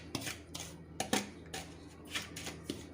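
Lumps of kala namak and amchur powder are crushed and mixed in a dish of masala for a stuffed red chilli pickle: soft, close, irregular scrapes and taps of a utensil against the dish, with no talking.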